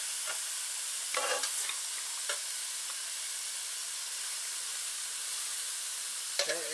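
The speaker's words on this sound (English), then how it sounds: "Now the trick is for making hamburger steak" Hamburger steak fries in a greasy pan, a steady close sizzle and hiss with a few scraping stirs of a utensil near the start and again at the end.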